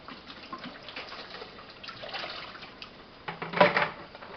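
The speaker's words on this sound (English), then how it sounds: "Rinse things off a little bit." Gatorade and Powerade plastic jugs are rinsed with water, a faint, intermittent splashing and trickling that swells into a brief louder slosh near the end, with no voices.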